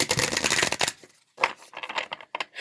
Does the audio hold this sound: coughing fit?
no